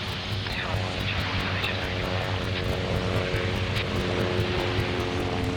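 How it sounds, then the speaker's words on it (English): A Lockheed C-130J turboprop transport at Farnborough accelerates on its takeoff roll, with a loud, sustained propeller and engine roar and steady tonal hum, heard from onboard, with voices partly audible under the engine noise. "The C-130J is actually quite agile. As you can tell during the takeoff roll, we accelerated quite rapidly"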